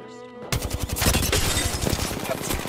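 Rapid gunfire from a video game shooter bursts in loud after a brief quiet moment, a dense run of shots continuing steadily to the end.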